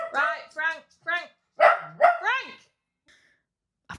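A reactive small dog barks in a close, sharp burst of several yips and barks, then falls quiet before one last short yap.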